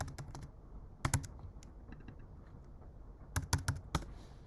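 Keystrokes on a Mac computer keyboard as coordinates are typed in: quiet, sparse clicks, a short cluster near the start and a quicker burst of several taps toward the end, with no talking.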